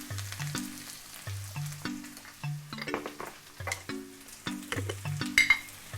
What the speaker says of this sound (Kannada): ಈರುಳ್ಳಿ ನೀಟಾಗಿ ಫ್ರೈ ಆಗಿದೆ.